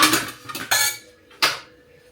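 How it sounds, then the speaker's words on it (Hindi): Dishes, pots and cutlery clatter as they are washed by hand in a home kitchen, with several sharp metallic clanks and scrapes spread over a couple of seconds, close and moderately loud. "मैं धो लेती हूँ बर्तन, ख़त्म करूँ अपना काम"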